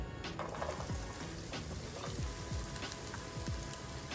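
Red onions fry in hot oil with cumin seeds in a pan, a steady low sizzle with small crackles and pops scattered throughout, quiet and close.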